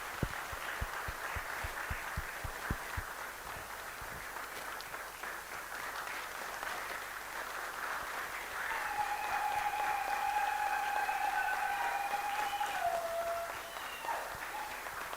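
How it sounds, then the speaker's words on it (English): Audience applause fills a celebration marking the tenth anniversary of KENCO, a Kenyan cancer advocacy organization, with steady clapping from a crowd that swells louder midway, alongside a few whistles or cheers. "can we give a round of applause?"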